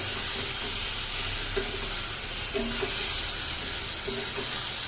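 Pointed gourd sautéing in a pan gives a steady, close sizzle and hiss, with a few soft clicks of the stirring spoon scattered through it.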